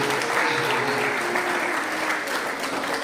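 An audience of students claps to welcome a guest to the stage at a Kannada literary event marking poet Da Ra Bendre's 130th birth anniversary; dense, even applause carries on throughout.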